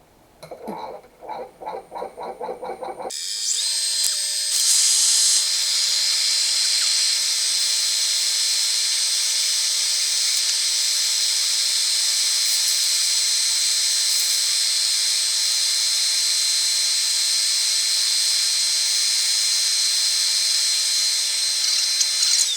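A lathe spins up after a few soft taps, then a steady high-pitched whirring with abrasive hiss from sanding a cracked walnut bowl with red resin inlay runs on continuously without pause.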